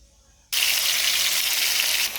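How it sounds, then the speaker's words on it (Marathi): Hot oil for a chicken curry tempering bursts into a loud, steady sizzle after a brief quiet start, then holds at a bright hiss without any talk. "तर आपण आता भाजीला फोडणी घालूया। इथं 2 माप तेल मी तापायला ठेवलेलं आहे।"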